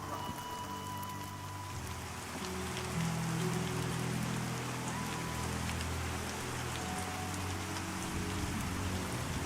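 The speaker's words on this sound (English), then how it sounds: "And it's raining." Steady rain falling in the fantasy online game Pantheon: Rise of the Fallen, a soft, even patter on surfaces that continues throughout with no voices.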